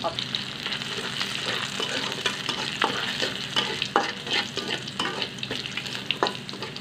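Taro leaves stir-fry in hot oil, giving a constant close sizzle broken by irregular scraping and clattering strokes of the spatula, with no talking.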